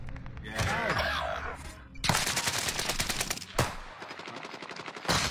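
Rapid automatic gunfire in Call of Duty, with dense bursts of shots and sharp crack-like reports crowding the whole stretch, plus a few heavier thuds and some talking mixed underneath.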